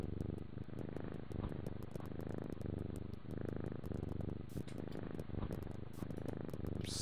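A pet cat purring in the Knytt Stories platform game, a steady soft rumbling purr that pulses in even breaths and continues alone throughout.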